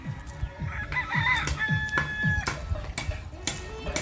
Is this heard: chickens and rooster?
yes